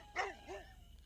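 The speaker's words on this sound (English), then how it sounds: "They are then attacked by a group of dogs and run away." Dogs bark in a sound effect, two quick close barks in succession, the first louder, followed by a faint tail of quiet background.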